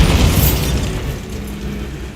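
A spell cast in Hogwarts Legacy lands as a loud, booming magical blast, a dense rumbling burst at the start that slowly fades over about two seconds.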